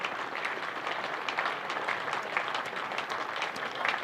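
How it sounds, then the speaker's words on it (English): A cricket crowd at Wantage Road applauds a Northamptonshire batsman leaving the field after a century in a County Championship match, a fairly distant, steady patter of clapping. "And listen to this applause for Rob Keogh as he makes his way off here"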